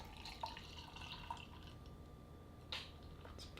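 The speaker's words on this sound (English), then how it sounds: "So I'm going to go ahead and pour that." Sip Sip Pass double IPA from New Glory in Sacramento poured into a glass: a quiet, steady trickle of liquid with a few soft drips and splashes, faint and alone without talk.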